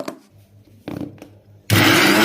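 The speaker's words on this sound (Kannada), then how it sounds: "ಇನ್ನು ಒಂದು ಸರ್ತಿ ಮಿಕ್ಸಿಗೆ ನೈಸಾಗಿ ಇಟ್ಕೊಳ್ಳೋಣ" After a few soft clicks and bumps, a kitchen mixer grinder roars to life at full speed, grinding Mangaravalli chutney with rock salt in a loud, continuous whir.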